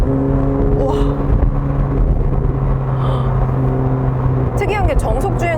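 A McLaren 750S sports car accelerates hard at high RPM, its engine a loud, sustained droning roar heard from inside the cabin, with a voice speaking over it and faint chirps near the end.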